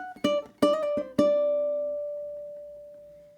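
A ukulele plucks a short melody line of about five quick notes, the last one ringing out and slowly decaying, clear and close with no talking.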